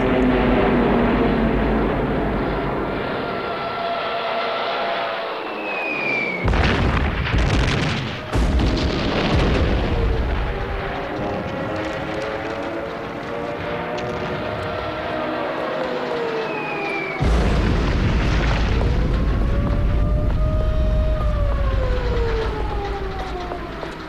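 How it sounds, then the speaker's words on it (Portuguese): Wartime bombing of Warsaw in 1939, with droning aircraft, sweeping air-raid sirens and heavy explosions, loud and continuous, with sudden booming blasts breaking in around six and seventeen seconds. "Em setembro, Hitler ordena o bombardeio de Varsóvia."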